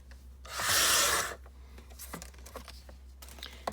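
Paper being trimmed for a bookmark: one loud, continuous cutting swipe lasting about a second, then quieter rustles and small handling taps of the sheet nearby.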